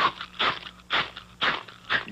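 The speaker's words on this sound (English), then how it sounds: "You can't get away with the crunch, because the crunch always gives you away." Cap'n Crunch cereal is crunched loudly and close up in a 1980s cereal commercial, with four or five regular crisp bites about half a second apart and no talk over them.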